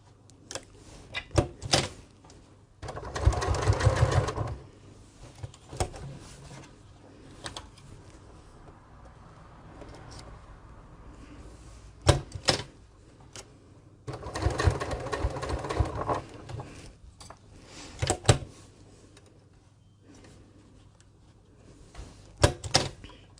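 A sewing machine stitches in the ditch of a crease on a bag's shoulder pad, running in a few short bursts of rapid needle clatter separated by quiet pauses and small clicks.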